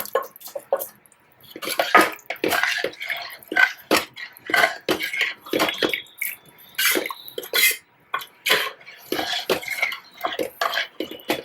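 Okra, eggplant and potato being stirred into simmering Sindhi kadhi in a pot, producing repeated clinks of a metal spoon against the vessel with wet splashing, close and steady throughout.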